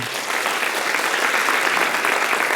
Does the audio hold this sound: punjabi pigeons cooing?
no